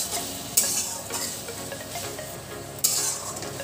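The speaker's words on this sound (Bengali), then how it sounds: "খুব ভালো করে মশলাটা কষিয়ে নেব।" Spice paste with green peas sizzles steadily in a pan for a Bengali-style cabbage curry, with a constant close frying hiss and two sharp scrapes as a spoon stirs the mixture.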